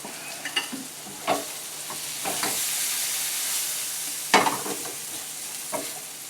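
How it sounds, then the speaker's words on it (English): Minced garlic sizzles steadily in a hot pan, a continuous close frying hiss broken by a few sharp clatters and scrapes of stirring, with no talking. "Now I'm going to add some garlic. Minced up garlic."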